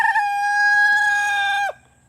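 A homestead rooster gives one loud, close crow, a sustained harmonic call that holds for about a second and a half and then drops away sharply, with faint hen clucks beneath.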